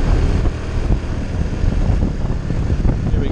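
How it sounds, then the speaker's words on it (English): A Honda Innova motorbike engine revs hard in second gear while climbing the Bealach na Bà mountain pass in Scotland, a loud, steady drone mixed with heavy wind buffeting across the microphone. "It's revving out in second now."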